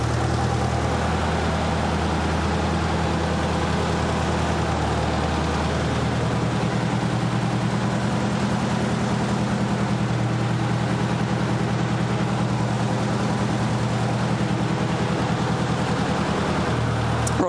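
A Nissan 200sx with its timing off idles near the microphone, a loud, steady low rumble with a slightly uneven pulse running the whole time.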